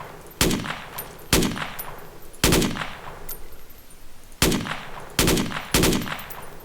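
L85 rifle gunfire in a Roblox game: sharp single gunshots fired at irregular intervals, about seven reports, loud and close with short decaying tails and no speech.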